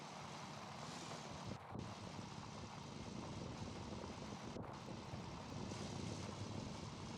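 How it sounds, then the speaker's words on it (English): A steady, distant engine drone from a gold mining video game hums on without pause, broad and rumbling like a far-off aircraft or truck, with no voices. "and now it's a distant engine sound"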